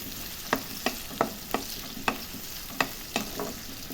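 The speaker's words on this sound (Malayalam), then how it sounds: "പച്ചമസാലയിൽ നമുക്ക് വഴറ്റിയെടുക്കുന്നത് സവാളയും ഉള്ളിയും മാത്രമാണ്." Onions and shallots sautéing in a pan for a crab masala curry, a steady frying sizzle punctuated by about eight regular spatula scrapes and knocks against the pan, no speech.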